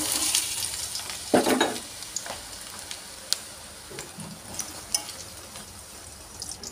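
Two cups of chopped onions fry and get stirred in hot mustard oil in a pan, giving a soft, continuous sizzle broken by occasional sharp scrapes and clinks of the spoon.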